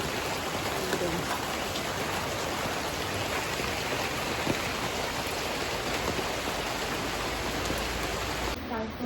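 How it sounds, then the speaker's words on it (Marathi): Heavy rain pours in a dense, continuous hiss, loud and unbroken throughout. "सकाळी आल्यापासून खूप पाऊस आहे"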